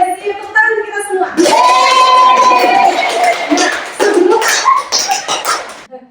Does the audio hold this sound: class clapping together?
yes